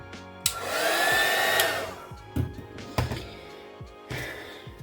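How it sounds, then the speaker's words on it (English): A heat gun blows hard on coffee filter paper poppy petals, a steady loud rushing roar for about a second and a half, then cutting off and followed by a few close thumps and knocks on the work surface. "dry these with my heat gun"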